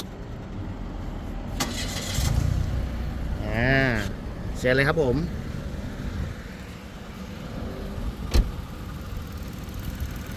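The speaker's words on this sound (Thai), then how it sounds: "เดี๋ยวทีนี้นะฮะผมมาฟังเสียงเครื่องยนต์กันนะครับ" The 1.2-litre engine of a 2013 Mitsubishi Mirage GLX cranks and catches, then settles into a steady idle, with someone talking over it nearby.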